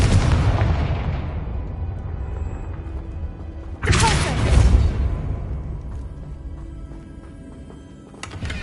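A Confringo blasting spell in Hogwarts Legacy bursts with a sharp booming explosion that rumbles and fades. A second, stronger blast about halfway through decays slowly into a dim, echoing space.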